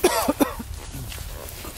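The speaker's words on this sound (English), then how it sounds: "Terrible cough." A few sharp coughs burst out in quick succession at the start, close and fairly loud, followed by quiet room noise.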